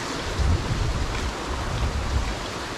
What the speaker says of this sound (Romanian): Asta este o cascadă unică, pe care o vedeți și voi.